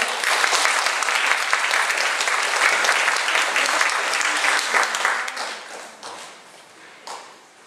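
A concert audience claps in welcome for a hand drum player, Ms. Lin Chunzhen: a loud, dense wash of applause that holds steady for several seconds, then thins and fades away as the clapping dies down.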